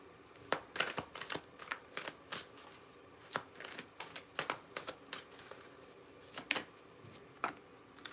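Tarot cards shuffled in quick, irregular riffling bursts, crisp and close, a dozen or so flicks and snaps over several seconds with no talking.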